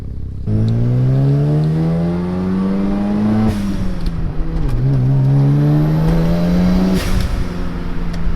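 A Mazda RX-7 rotary engine runs close by with a steady, buzzing drone that rises in pitch, dips briefly, then climbs again, loud throughout.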